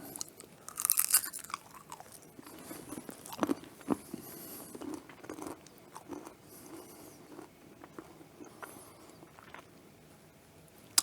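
Close, crisp crunching and chewing of homemade cayenne Cracker Jacks, caramel-coated popcorn, in bursts that fade into quieter munching, with no talking.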